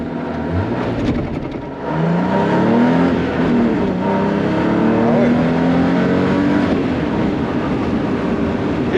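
A car driven hard on a closed road, its engine roaring loudly up and down through the gears from inside the cabin, with voices speaking over the noise.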